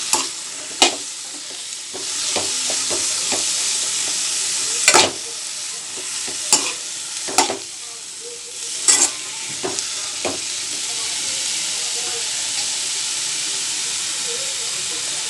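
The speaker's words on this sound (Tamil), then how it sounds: "கத்திரிக்காய் சேர்த்து ஒரு தடவை நல்லா கிண்டி விட்டுக்கோங்க." Brinjal frying in hot oil in a pan while being stirred: a steady loud sizzle and hiss, with about a dozen sharp scraping clacks from the spoon against the pan at irregular intervals.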